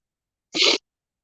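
One sharp, close sneeze bursts out suddenly and ends within a fraction of a second, surrounded by silence.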